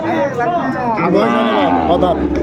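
A cow with her calf at the Aftabganj cattle market gives a loud, close, sustained moo over a background of market chatter and voices.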